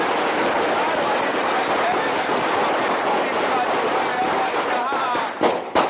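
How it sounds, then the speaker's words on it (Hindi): Diwali firecrackers bursting outdoors: a dense, continuous crackle and roar of distant fireworks fills the air, followed near the end by a few louder, sharper individual bangs close by. "पहले पटाखे फोड़ लेते हैं"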